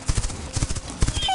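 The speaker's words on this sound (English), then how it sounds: "H for horse." Rapid rhythmic hoof clops patter steadily, with a brief high whinny-like tone near the end.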